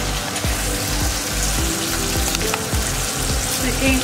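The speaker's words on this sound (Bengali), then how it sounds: "এই আলুটা আমি লাল করে ভাজবো" Potatoes frying in oil for a crab curry, a dense, loud crackling sizzle heard up close with occasional sharper pops and utensil knocks, no talk.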